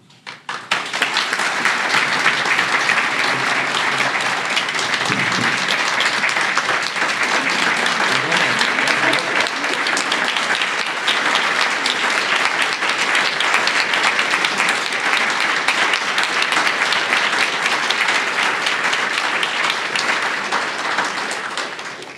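A luncheon crowd at a bar association annual meeting applauds its award winners in a long, sustained ovation, loud dense clapping holding steady for over twenty seconds before tapering slightly at the end.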